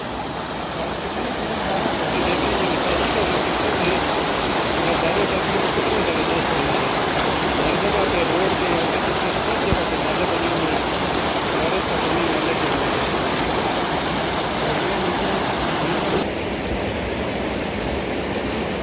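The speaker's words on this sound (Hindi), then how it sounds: "देख लो पानी कितना आ रहा है, पानी का शोर कितना है।" Heavy rainwater rushes through a drainage channel in Rwanda: a loud, steady, continuous turbulent roar like a fast stream, close by and unbroken throughout.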